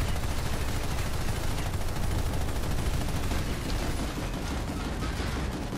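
Rapid, dense gunfire from a Shredder weapon in the video game Planetside 2, a loud continuous automatic barrage filling the whole stretch without pause or talk.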